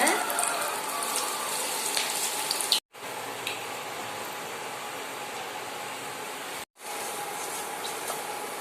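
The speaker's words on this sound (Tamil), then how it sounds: "இதே மாதிரி எல்லாத்தையும் நல்லா பொரிச்சு எடுத்துக்கலாங்க." Cabbage pieces deep-fry in oil with a steady, close sizzle and bubbling hiss, broken by two abrupt brief cuts.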